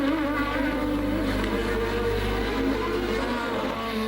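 1985 Formula 1 race cars, including a non-turbocharged Tyrrell, roar steadily on the tight Detroit Grand Prix street circuit, a continuous loud engine drone with shifting harmonic tones and no talk.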